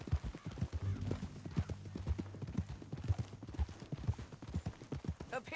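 Horse hooves clip-clop in Red Dead Redemption 2, a steady close walking gait with a low snort and soft tack noises, no talk over it.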